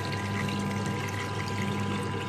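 About two kilograms of cold water pours steadily into a pot during homemade paneer making, a continuous close splashing rush throughout.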